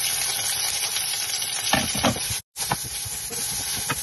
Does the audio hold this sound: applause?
no